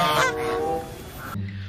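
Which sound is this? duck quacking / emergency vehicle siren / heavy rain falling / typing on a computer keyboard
duck quacking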